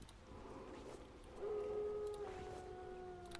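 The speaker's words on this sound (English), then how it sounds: "werewolf or wolf howls in the ambient noise" Wolf or werewolf howls in the ambient sound of a haunted-woods video game, a faint, distant drawn-out tonal wail rising over low background noise.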